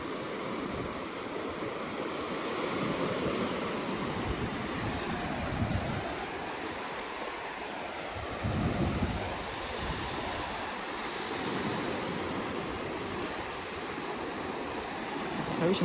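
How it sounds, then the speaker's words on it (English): Ocean surf rolls onto the Jekyll Island beach in Georgia, a steady broad wash with swells rising around the middle and wind rumbling across the microphone, no talking. "The ocean's taking that one right on back out."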